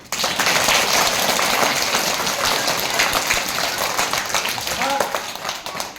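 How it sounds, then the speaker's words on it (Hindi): A crowd of schoolchildren applauding at a school magic show, steady broadband clapping filling the room for several seconds, with voices briefly audible near the end. "ताली बजाओ उनके लिए।"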